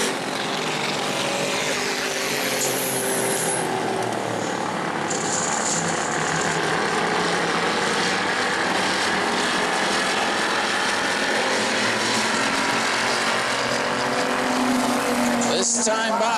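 Race cars roar around the New Smyrna racetrack during a 100-lap enduro, a dense continuous engine drone that stays loud throughout, with passing cars swelling and fading, and no talk over it.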